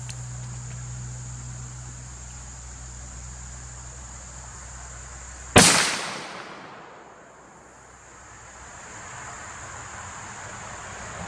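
A single sharp, loud gunshot from a scoped lever-action rifle chambered in .44 Magnum, fired once outdoors and followed by a fading echo, with insects buzzing quietly in the background.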